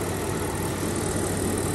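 BMW X5 4.8i with the N62 V8 idling during an engine flush, a steady, even hum at an unchanging level, close and continuous with no voices.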